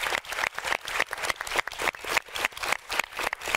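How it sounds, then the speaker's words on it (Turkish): Studio audience on a live Turkish television talk show claps in loud, rhythmic unison, bursts of hands striking together in a quick regular beat that fills the clip with no talking over it. "Mersin Cumhuriyet Başsavcılığı'na kocaman bir alkış gönderiyoruz"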